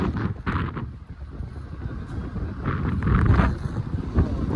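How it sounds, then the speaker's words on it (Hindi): Wind gusts buffet the microphone outdoors near the Bada Mahadev temple in Pachmarhi, Madhya Pradesh, as a steady rough rumble that swells and eases, loudest toward the end. "बहुत प्यारी हवा चल रही है"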